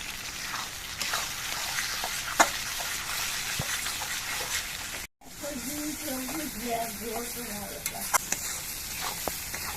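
Curry masala for a yogurt-based katla fish curry is sautéed in a pan with a loud, continuous sizzle and stirring scrapes. A brief dropout falls midway, and a faint voice can be heard in the background afterward.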